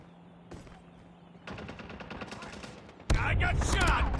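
Gunfire in Call of Duty Mobile ranked multiplayer, rapid automatic bursts growing louder and denser, ending in a loud close volley.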